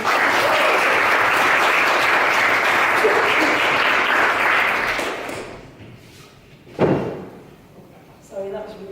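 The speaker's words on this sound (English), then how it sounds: "give a warm round of applause to get us back into the second half" A warm round of applause at a poetry evening fills the first five seconds, dense and steady, then fades into room quiet broken by a loud thump and a brief voice near the end.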